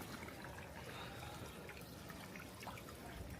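Water trickles and splashes softly at a mountain spring bathing spot, a faint, continuous wet patter heard from close by.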